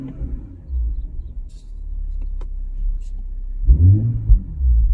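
A 2021 BMW M440i xDrive Coupe idles with a low exhaust rumble in sport mode, then blips the throttle into a deep, close revving burst before settling back to a throaty idle.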